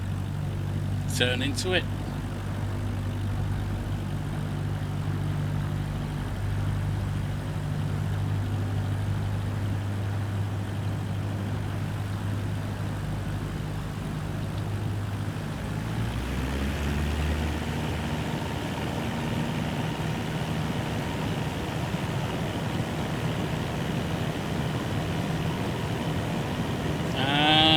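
In Microsoft Flight Simulator 2024, an aircraft engine drones steadily at idle and then shifts to a rougher, rising roar as takeoff power comes in, with someone speaking briefly over it.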